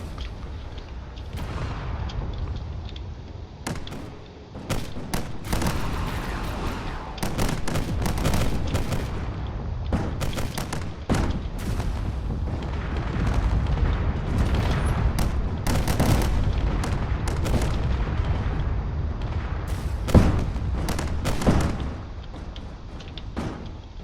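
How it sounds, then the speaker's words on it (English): Explosions and gunfire in a video game drone battle between fighters and a carrier, a dense, continuous barrage of booms and sharp blasts layered over one another, loud throughout. "So there's a lot of explosions going on here."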